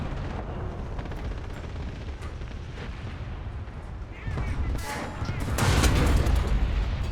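Tank cannon fire in a War Thunder game duel, with distant muffled booms over a steady rumbling background; the firing grows heavier toward the end, and no talk is heard.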